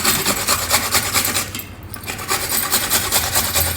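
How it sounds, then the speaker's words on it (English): Fresh amla, or Indian gooseberry, rubbed against a grater for a South Indian curd pachadi: continuous close rasping strokes in a quick even rhythm, briefly easing midway, with no voices. "We will use this amla or gooseberry for the Thayir pachadi. So wash it well and grate it."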